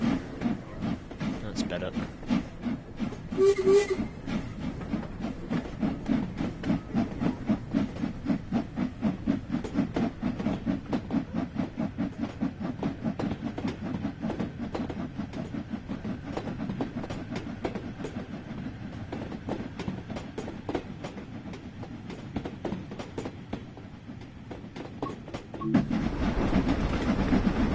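A steam locomotive in Train Sim World 4 spins its wheels, producing a rapid, steady chuffing beat with hiss over a rumbling low drone. Someone talks briefly over it.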